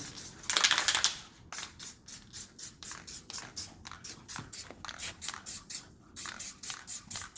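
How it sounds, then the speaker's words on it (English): Short bursts from a spray paint can putting white paint on the backs of resin tile coasters, a long hiss followed by a rapid, even series of brief close sprays with no talking. "Just spray where you need it."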